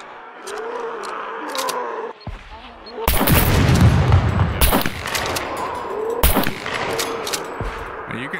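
Gunfire in the survival shooter SCUM, with several loud, close blasts and heavy booms breaking over a background hum, separated by short gaps; voices talk briefly.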